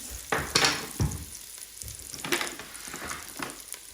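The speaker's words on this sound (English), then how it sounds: "now your onions had a good sizzle" Onions sizzling and frying in a Ninja Foodi pressure cooker, a steady crackle broken by several sharper bursts as they are stirred, close and fairly loud with no talking.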